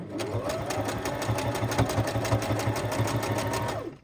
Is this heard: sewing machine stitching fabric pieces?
yes